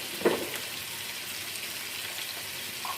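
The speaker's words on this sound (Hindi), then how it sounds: "टमाटर सब्ज़ मिर्च को भी हम चिकन के साथ ही फ्राई कर लेते हैं।" Chicken frying in a pan with tomato, green chili and red chili powder gives a steady, soft sizzling hiss, with one brief louder crackle near the start and no talking.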